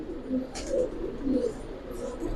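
Giribaz pigeons coo softly in a few low, rounded phrases, close and steady against a light background hiss.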